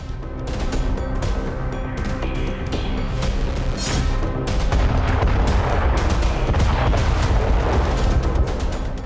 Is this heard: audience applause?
no